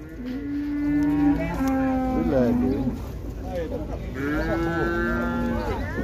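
Cattle at a livestock fair in Águas Belas, Pernambuco, lowing in long drawn-out moos, two extended calls close and loud, with crowd murmur and voices of traders around them.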